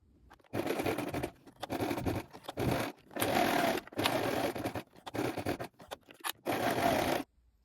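A sewing machine stitches a lined jacket's front pieces, one fused with interfacing, close to the edge, running in several loud motor bursts of about a second each, separated by short pauses.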